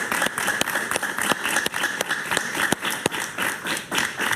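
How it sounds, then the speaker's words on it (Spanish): Studio audience applause on a Spanish-language talk show, a dense wash of many hands clapping at an even, moderately loud level, with sharper individual claps standing out and no talk over it. "Un aplauso para Reinaldo Caraví,"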